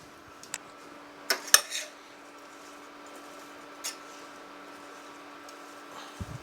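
A spoon stirring black pepper into a sauce in a pan gives a few quiet, scattered clinks and scrapes, clustered early and then one more, with long near-silent gaps between them.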